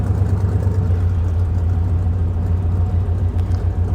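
An off-road vehicle driving through the woods gives a loud, steady engine drone with a deep low rumble that holds constant throughout, close up and with no voices.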